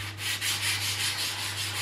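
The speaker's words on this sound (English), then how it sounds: "Start sanding it down." Close, steady back-and-forth rubbing of wet 400 grit sandpaper on car paint, a continuous rhythmic rasp with a low hum underneath and no talking.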